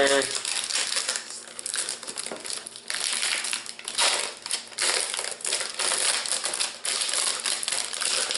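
Stiff plastic packaging around an Amazon Fire TV Recast crinkles and crackles up close as it is handled, in continuous uneven rustling bursts with no talking.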